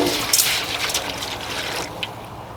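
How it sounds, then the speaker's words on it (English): Cold water pours into a bucket at a campsite, a close splashing trickle that is strongest at the start and gradually eases off. "fill the bucket with cold water"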